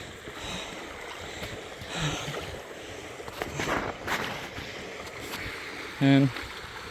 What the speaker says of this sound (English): So this is all spring water.